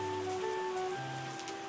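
Steady soft rain in the winemaking tycoon game Terroir, an even, faint patter under quiet sustained musical tones, with no talking.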